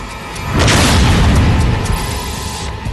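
A bomb bursting in the cargo hold of Air India flight 182, heard as a single loud, deep boom that erupts suddenly and then rumbles away over a few seconds.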